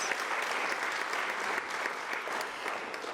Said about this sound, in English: I think they need a very big round of applause for that.